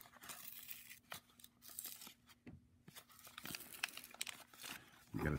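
A plain white envelope of trading cards is torn open by hand, with short rips and crinkly paper rustling in quick, uneven bursts, close and fairly quiet, with no talking.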